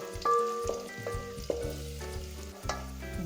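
Ingredients fry in a pan for Goan prawns mole with a soft, steady sizzle. A few sharp clinks of stirring against the pan cut through it, close and fairly quiet, with no voices.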